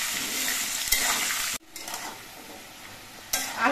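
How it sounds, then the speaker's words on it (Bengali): Potatoes sprinkled with salt fry in a pan, a close, busy sizzle with stirring scrapes that briefly drops away mid-clip before surging back. "আলুগুলো ভাজার সময় আমি এর মধ্যে অল্প করে নুন দিচ্ছি।"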